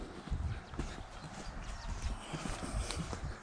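Draft horses walk near a stable in Ukraine, their hooves giving irregular, fairly close clip-clops on the ground, moderately loud with light background noise.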